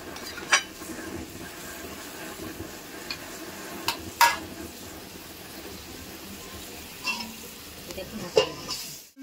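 Cabbage cooking with a rohu fish head in a pan, a quiet low simmering sizzle broken by a few sharp clinks and scrapes of a spoon at scattered moments, close by with no talk.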